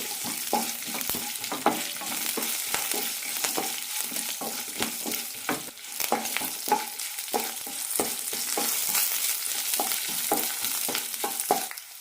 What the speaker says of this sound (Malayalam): രണ്ട് ചോന്നമുളക് ഇട്ട് കൊടുക്കാം നന്നായി റോസ്റ്റ് ചെയ്തെടുക്കാം പരിപ്പുകളൊക്കെ നന്നായി ചോന്ന് കിട്ടണം